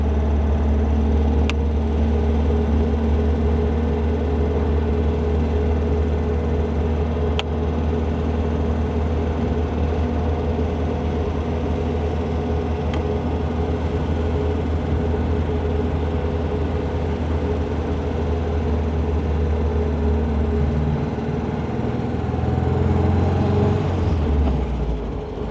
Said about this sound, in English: Little 4-cylinder, straight 4. These are very fun, little torquey motors.